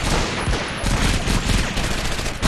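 An MG-42 machine gun fires in a war video game, a loud, dense unbroken stream of rapid shots that holds close and heavy throughout.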